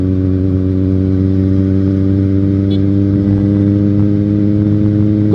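A Kawasaki Z1000 motorcycle engine hums steadily on a night road ride, its deep, continuous drone close and loud throughout, with a slight rise in revs near the end and no talking.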